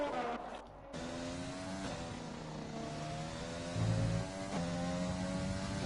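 Racing cars on track in a motorsport video game, with engines droning and shifting pitch through gear changes and a brief locked-brake squeal into the final corner, steady and mid-level.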